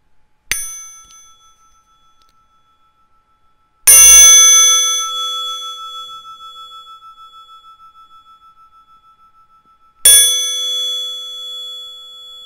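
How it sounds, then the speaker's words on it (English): A meditation bell is struck three times: a light first tap, then two full, bright rings spaced several seconds apart, each with a long shimmering decay in an otherwise silent room. "When I ring the bell 3 times, please come out of meditation"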